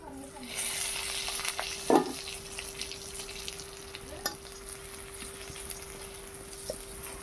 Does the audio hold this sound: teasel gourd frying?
yes